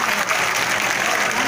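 Crowd applause welcoming Chief Minister Vasundhara Raje onto the stage at a hostel inauguration in Ajmer, a dense, loud, steady roar of clapping.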